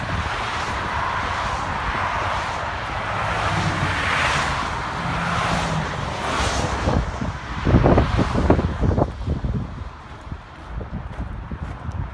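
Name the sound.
highway traffic passing by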